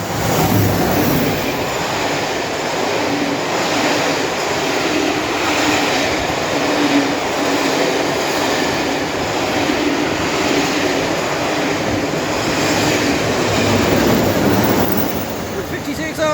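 GBRF Class 56 diesel locomotive hauling a rake of coaches through Beeston station on a farewell tour, a loud continuous roar of engine and rumbling wheels on rails lasting throughout, with faint voices underneath.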